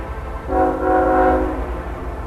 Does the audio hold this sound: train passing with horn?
yes